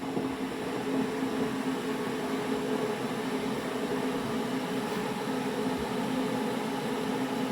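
An electric kettle heats water with a steady, even rushing hiss and a low hum, holding at a constant level without breaks throughout.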